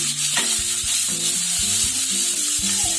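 Onions frying in oil in a pan along with curry leaves, coriander and green chilies for kuzhi paniyaram, stirred with repeated scraping strokes over a steady sizzle, close and fairly loud, no talking.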